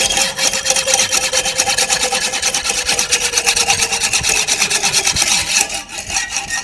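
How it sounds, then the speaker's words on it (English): A small hacksaw cuts through 6mm brass rods with quick, even back-and-forth rasping strokes, close and continuous throughout with no voices. "So just using a little hacksaw just to cut through them."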